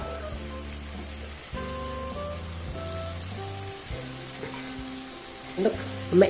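Noodles being tossed and stirred with soy sauce in a hot pan, a steady low sizzle with soft scraping and stirring clatter, a few louder knocks near the end.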